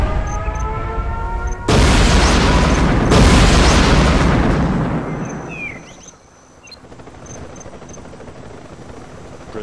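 A nuclear missile detonating in Command & Conquer Generals Zero Hour: a sudden, massive roaring blast that swells into a sustained rumbling wash for several seconds, then fades into lower background game noise.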